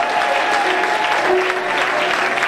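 A live audience at a gospel concert in London claps steadily and densely for a few seconds, the applause continuous and fairly loud with no distinct voices over it.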